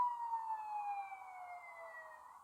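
A toy siren on a Lego Ghostbusters Ecto-1 wails steadily with a thin, electronic tone, a single sustained wavering call throughout, fairly close and moderately loud.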